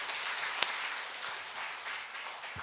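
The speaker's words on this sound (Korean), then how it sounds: "영광의 박수 한번 드리겠습니다." A church congregation claps during a Sunday worship service, a soft, even spatter of applause from a fairly distant group, steady and without voices.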